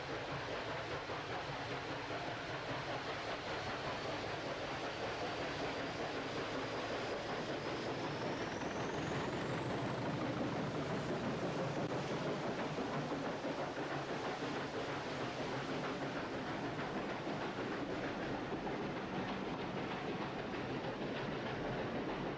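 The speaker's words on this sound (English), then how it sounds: "Class 20, 2166, and an austerity tank provided the entertainment." Diesel and steam tank locomotives working at a Bodmin heritage railway gala, a Class 20 diesel and an austerity tank engine, give a steady loud rumbling run-past with rail clatter and a rising whine building midway, no voices.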